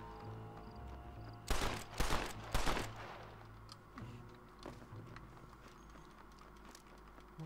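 A rapid burst of several loud gunshots cracks out in Red Dead Redemption over a low rumbling ambience, followed by quieter distant pops and a faint background hum.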